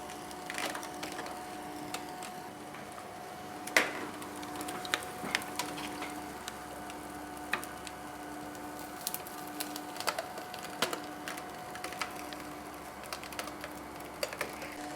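A ColorFlare CF350 foiling machine runs at its slowest speed, giving off a steady low mechanical hum with scattered light clicks and ticks throughout.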